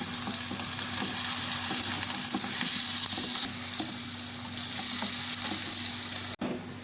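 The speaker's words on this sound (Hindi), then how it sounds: "जब ये थोड़ा गर्म होता है तो मैं इसमें ये प्याज डाल दूँगी" Onions frying in about half a cup of hot oil in a pan, a steady loud sizzle with occasional stirring scrapes and a brief clunk near the end, close up, with no talking.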